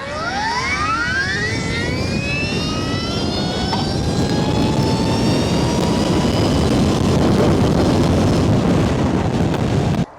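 A Stark Varg SM electric motorcycle at full throttle with 70 horsepower gives a loud, rising electric motor whine that climbs steadily in pitch over heavy wind roar for about ten seconds before cutting off abruptly.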